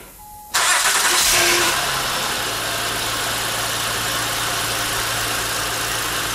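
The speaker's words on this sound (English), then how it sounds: "since we got the vehicle running now" Car engine cranks and catches with a loud surge, then settles into a steady idle, a close, even low drone that continues to the end while oil pressure is checked.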